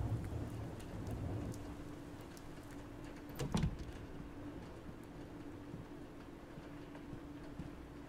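Steady rain hisses outdoors in The Walking Dead: Michonne video game, soft and continuous, with one brief louder crack near the middle.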